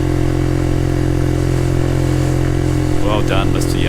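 A Yamaha YS125 motorcycle pulls hard up a hill in third gear, its steady mid-pitched engine drone loud and close throughout, with a brief shift in tone near the end.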